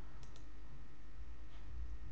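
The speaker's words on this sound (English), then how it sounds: "double click on the file to run it" A computer mouse double-clicks a downloaded file, two quick faint clicks close together near the start, followed by a single soft click later over a low steady background hum.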